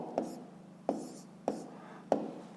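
Handwriting strokes during a fifth-grade maths exercise: four short, crisp scratching taps at roughly half-second intervals, close and quiet, alone without talk.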